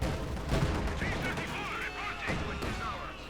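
Field gun firing in Company of Heroes 2 during a Panzer IV engagement, heard as dense gunfire and artillery-type blasts under a commentator's continuous talk.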